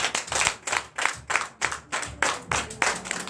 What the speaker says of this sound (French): Donne l'acclamation à Jésus.